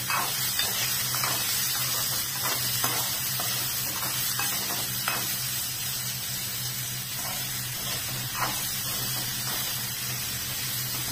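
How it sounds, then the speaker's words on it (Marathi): Grated green mango cooking with salt in a pan for gulamba, a steady hissing sizzle with scattered light taps and stirring sounds, close and even in level, with no talking. "थोडंसं मीठ टाकायचं आणि आता मस्तपैकी त्याला शिजू द्यायचं."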